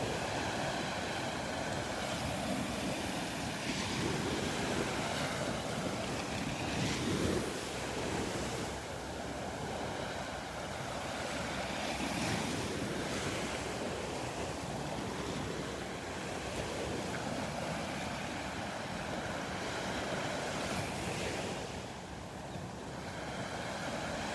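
Ocean surf rolls steadily onto a beach at Delnor-Wiggins on a rainy morning, a broad continuous wash swelling and easing over breezy wind noise, with no talking.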